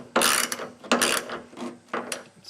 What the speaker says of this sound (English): then we use a torque wrench and set it to 41 per the instructions